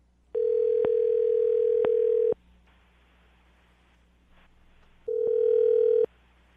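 Telephone dial tone heard while placing a call, a steady loud hum lasting about two seconds, then a short gap with faint line noise, then a second shorter burst of the same tone, with faint clicks at the edges.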